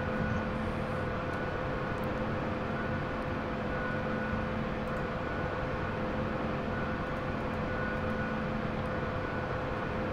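A Huey helicopter in a video game flies with a constant, droning rotor and engine roar, steady and unbroken for the whole stretch with no voices.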